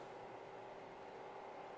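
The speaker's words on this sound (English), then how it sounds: "Sorry about the noise. I put a little heater in here." A small space heater runs steadily in a room, giving an even, continuous fan-like hiss and hum with no change in level throughout.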